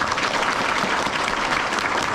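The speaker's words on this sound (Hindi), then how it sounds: "आइए हम एक और बार ईश्वर को धन्यवाद देते और आनंद मनाते हुए एक और बार जोरदार तालियों से इस खुशी को मनाएं।" A church congregation in a hall claps together during a parish priest's installation, a dense and even wash of applause that holds steady for about two seconds.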